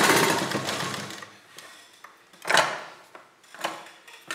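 A sewing machine runs stitching along the pleats of a neckline, in short near bursts that whir then pause, with clattering pulses at intervals and no talk.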